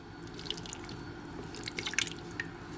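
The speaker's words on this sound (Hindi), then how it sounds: "अब हम इसमें तकरीबन आधा कप पानी डाल देंगे।" Water, about half a cup, poured into cooking chicken for a student biryani, heard as faint, scattered drips and splashes against a soft steady background, with no talking.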